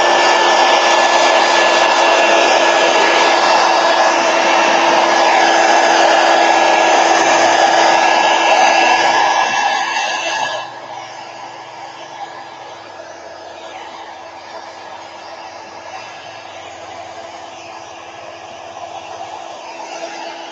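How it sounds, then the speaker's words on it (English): A heat gun blows hot air over a trash-art journal page with gold foil, stamps, stencils, paste and acrylic ink, giving a loud steady whooshing roar that drops to a lower, quieter setting about halfway through. "All right, heat gun."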